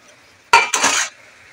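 Eggplant and small mourala fish mash simmering in a pot, stirred in a single burst of scraping and bubbling, close and fairly loud, lasting about half a second before fading to quiet.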